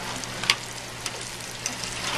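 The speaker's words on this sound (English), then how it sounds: "You can see that these eggplants are starting to crisp up nicely." Eggplant pieces fry in hot oil for rigatoni melanzane, a steady close sizzle with a few sharper pops and crackles breaking through a continuous hiss.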